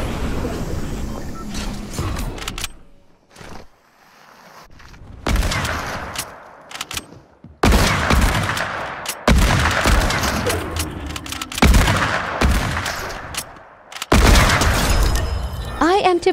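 Hunting rifles fire in a western-style sniper shootout, loud sharp booms in irregular bursts separated by brief quiet gaps, with voices talking in between.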